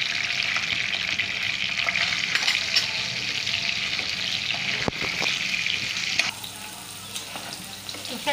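Onions and cumin seeds sauté in hot oil in a kadai, a loud continuous sizzle with stirring scrapes and a brief clatter midway, easing off slightly toward the end; no speech.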